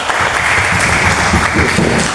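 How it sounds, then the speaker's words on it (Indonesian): Loud, steady applause from a school group at an Indonesian teachers' positive-culture dissemination event, dense clapping filling the whole moment without a break. "tepuk tangan untuk kita semua"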